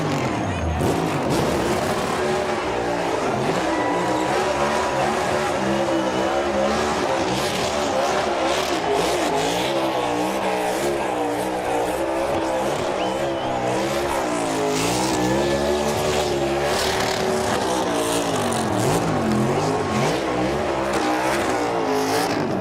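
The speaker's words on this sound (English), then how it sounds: "he's getting pretty darn good at those burnouts" A NASCAR Cup Series race car does a victory burnout, its engine roaring continuously with squealing, spinning tires, loud and sustained throughout.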